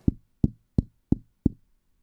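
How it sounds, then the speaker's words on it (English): Five light, evenly spaced knocks on a door, close and clear with short decays and nothing else around them, used as a sound effect in a children's fairytale reading. "arrived at Grandma's and knocked lightly at the door."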